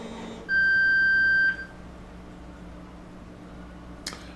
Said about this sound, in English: strange beeping noises